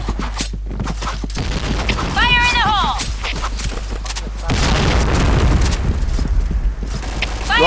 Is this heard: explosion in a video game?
yes